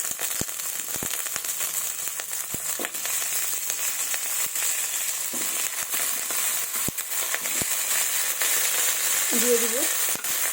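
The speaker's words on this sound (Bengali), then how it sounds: "এবার কড়াইয়ে আলু আর ডাঁটাগুলোকে ভেজে নেব।" Potatoes and drumstick stalks fry in a wok, giving a steady sizzle with scattered crackles and pops throughout, close and fairly loud, with a brief clatter near the end.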